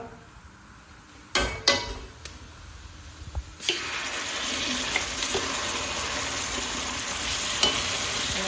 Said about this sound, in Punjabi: ਤੜਕਾ ਬਣ ਕੇ ਹੋ ਗਿਆ ਤਿਆਰ ਤੇ ਹੁਣ ਆਪਾਂ ਇਹਦੇ ਵਿੱਚ ਪਾ ਦਿੰਨੇ ਆ ਸਾਗ